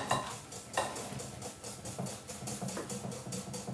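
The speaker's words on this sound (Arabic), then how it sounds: "نخلطوها شوية هكا" A spoon stirs a sweet mixture in a dish, making rhythmic scraping strokes about twice a second. The sound is steady, close and fairly soft, with no voices.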